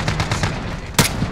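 Gunfire in an online multiplayer shooter video game, a rapid run of closely spaced shots followed by a single louder, sharper shot near the end, fairly loud and alone.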